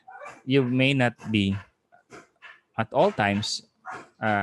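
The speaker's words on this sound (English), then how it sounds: "Sorry for the dog." A dog barks and yips in the background of an indoor room, faint and intermittent beneath a person lecturing steadily in the foreground.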